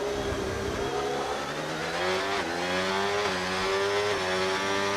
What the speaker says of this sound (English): now Callum's starting his second flying lap of the session